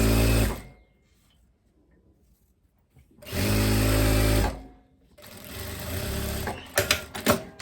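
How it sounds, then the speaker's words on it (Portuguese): An industrial sewing machine runs straight stitching along the side seams of spandex trousers in three bursts separated by short quiet pauses. The last burst ends with a few sharp clicks. "Faço a costura de reta nas laterais."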